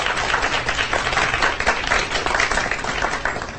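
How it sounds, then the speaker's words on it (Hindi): An audience breaks into steady, enthusiastic applause at a stage show, many hands clapping densely for a few seconds without pause. "एक बार जोरदार तालियां हो जाए कल्पना के लिए।"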